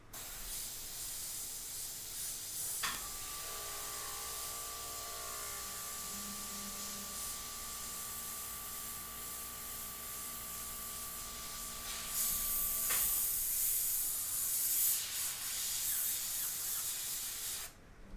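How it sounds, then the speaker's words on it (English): Steady close hiss of an airbrush spraying paint during an airbrush painting, a continuous even spray with a faint tonal whine, then a louder, brighter burst of spray toward the end. "We'll just go ahead and spray that, just make it dry a little bit."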